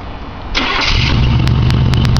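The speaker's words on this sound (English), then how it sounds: "Listening to the first crank on the new carburetor." A rebuilt Chevy 305 small block with a new carburetor cranks briefly and catches, settling into a loud, rumbling idle close by, with a few sharp ticks on top.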